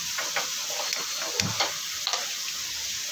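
Oil heats in a pan on a gas stove over a medium flame, ready for frying medu vada: a steady, even sizzling hiss with a few faint ticks and pops, no voices.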